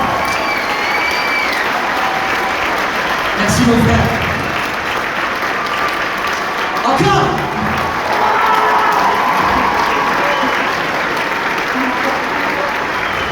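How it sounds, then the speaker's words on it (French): A large crowd at a Grand Rex screening event applauds and cheers in a sustained roar of clapping, with voices calling out briefly over the noise. "faites-leur un tonnerre d'applaudissements en cœur, parce que c'est eux qu'il faut applaudir ce soir"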